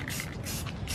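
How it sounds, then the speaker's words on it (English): A steady, close hiss of aerosol spray paint coating star shapes, running continuously with slight surges in intensity. "We're spray painting the stars."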